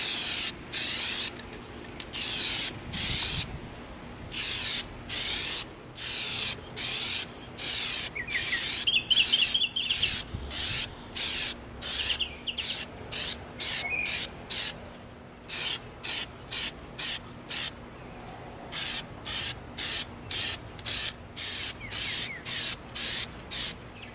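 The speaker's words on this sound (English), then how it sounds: "We're going to coat our Lost in Space blaster with our Plastidip." Rapid bursts of Plastidip spray coating an EVA foam Lost in Space prop blaster, short hissing blasts repeated steadily with brief pauses, close and fairly loud with no talking.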